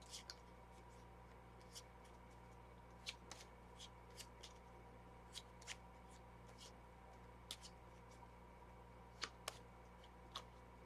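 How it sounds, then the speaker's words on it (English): A deck of boss cards for the Vampire: The Masquerade Chapters board game is shuffled by hand, giving soft, scattered card clicks and snaps at uneven intervals over a quiet, humming room. "So let's get the boss deck shuffled."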